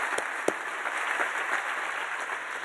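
Audience applause at a Heritage Society dinner, a steady wash of clapping from a crowd with a couple of sharper claps standing out early, continuous throughout with no talking.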